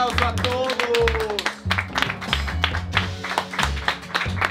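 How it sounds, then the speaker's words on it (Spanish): A group claps together in a home-built haunted house, the slaps dense and uneven, with thumping and voices mixed in over a few seconds. "un aplauso a todos"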